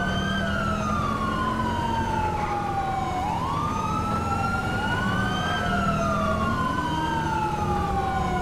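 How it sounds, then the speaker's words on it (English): A loud police siren in a video game, a Georgia State Patrol vehicle, wails continuously, its pitch sweeping up and down over a steady rumble of traffic noise, with no speech. "Because I love that siren."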